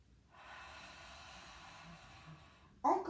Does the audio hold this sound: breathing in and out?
yes